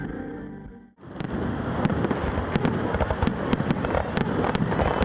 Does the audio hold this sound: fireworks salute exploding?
yes